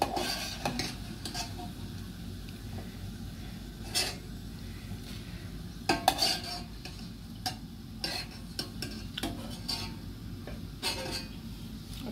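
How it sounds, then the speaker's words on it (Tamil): Peanuts frying in hot oil give a continuous sizzle, broken by frequent clinks and scrapes of a utensil stirring against the pan. "ஓகே, நல்லா பொரிஞ்சு கொண்டு வருது."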